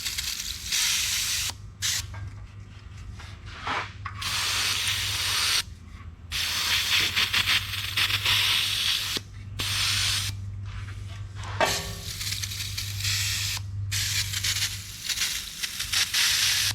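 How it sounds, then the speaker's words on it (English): Penetrating oil sprayed from an aerosol can onto a John Deere 2010 tractor engine that sat unused for over 20 years: a series of close hissing bursts of varying length, broken by short pauses. "I'm gonna put some penetrating oil on that."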